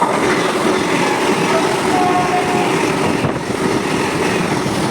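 A Vande Bharat express train rushes past close by, a loud steady rumble and roar of rolling wheels that holds throughout with no voices.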